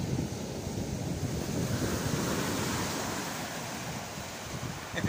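Steady, blustery wind roars across the microphone with a constant low rumble, surf washing beneath it on Great Yarmouth south beach, Norfolk, no voices.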